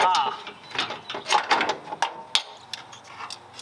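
A bolt is worked free of the upper control arm on a 5th-generation Toyota during a Bilstein 6112 and Old Man Emu install. Close, irregular metallic clicks, scrapes and clunks come in short bursts.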